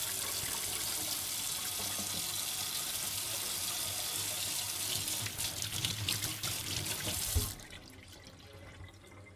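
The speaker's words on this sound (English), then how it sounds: "You basically give them a rinse with soap and water." Sunglasses being rinsed with soap and water under a running kitchen tap, a steady loud hiss of flowing water that gets more splashy and broken as the lenses move under it, then cuts off abruptly, leaving faint drips.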